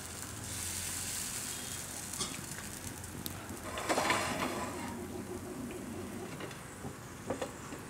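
Banana pudla batter fries in oil on a hot pan, giving a steady soft crackling sizzle at moderate distance. A few faint clinks and scrapes rise briefly above the hiss.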